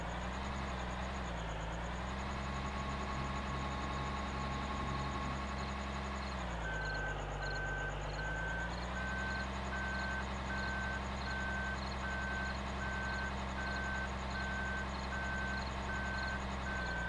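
A truck in Farming Simulator 2013 drones with a steady, loud engine. Partway through, regular reversing beeps start and keep repeating evenly over the motor until the end.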